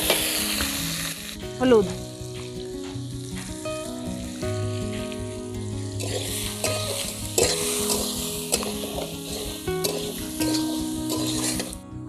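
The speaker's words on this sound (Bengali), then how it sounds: "এবার আলুগুলোকে আমি হালকা বাদামি করে ভেজে নিব।" Potato pieces sizzle steadily in a hot frying pan while being stirred to turn light brown, with occasional scraping of the spoon against the pan, a louder clatter early on and a brief spoken word.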